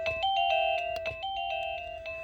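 A wireless doorbell chime rings out electronic melodic tones, a clear sequence of notes sounding alone at close range.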